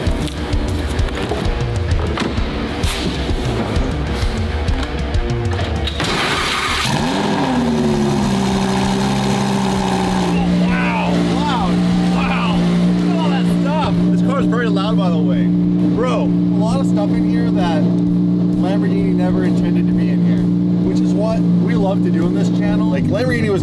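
A car engine roars and revs hard while drifting, then settles into a steady high drone with whining pitch sweeps, loud and close throughout.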